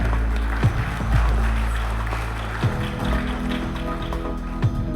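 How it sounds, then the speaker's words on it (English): Applause at an award ceremony, dense clapping from a large audience running continuously under a low steady hum and music-like tones, with a few sharper thumps standing out. "A big round of applause over here."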